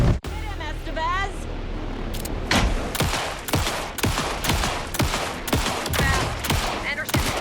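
Rapid bursts of gunfire from squad members during the final boss fight of the video game Alan Wake II, loud sharp shots in quick irregular succession, with voices talking early on.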